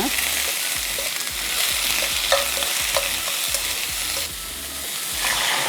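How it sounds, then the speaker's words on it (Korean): A spoonful of garlic stir-fries in a pan with water for an oyster, seaweed and radish soup, producing a continuous close sizzle with regular scraping strokes of stirring throughout. "마늘 한 스푼. 자, 넣으시고 같이 볶습니다."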